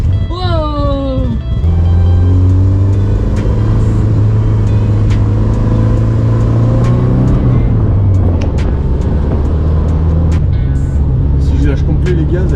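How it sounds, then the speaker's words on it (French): A BMW car engine with a fault revs up and then settles into a loud, steady, close idle, with scattered sharp backfire pops breaking through toward the end. "Elle fait ses retours de flamme."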